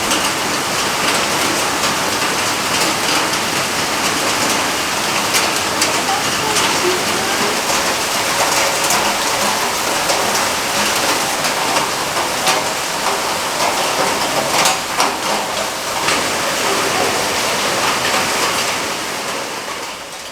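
Steady, heavy rain pours outdoors for the whole stretch, a dense constant hiss of drops on surfaces with scattered louder patters and no talking.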